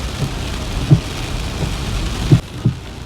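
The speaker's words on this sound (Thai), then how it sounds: "ก็คงเป็น พายุฝน ก้อนใหญ่พอสมควรนะครับ" A heavy rainstorm on a flooded university campus road, a steady dense hiss of rain with a few dull thumps now and then, with no talking.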